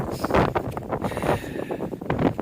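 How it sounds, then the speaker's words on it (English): Strong, relentless wind buffets the microphone on an American Discovery Trail hike, a loud continuous rumbling roar with gusty swells and no speech. "This wind is just relentless."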